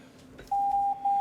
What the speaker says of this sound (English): the alphabet goes through all the naval signal flags, A to Z, and plays the Morse code